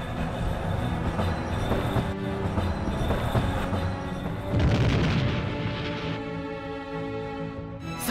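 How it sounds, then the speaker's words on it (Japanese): A bomb train departs in the Valkyria Chronicles video game, a loud, steady rumble of rolling rail wagons with a heavier surge midway, then a thinner grinding tone as it continues. "よし、これより爆弾列車を発進させる。"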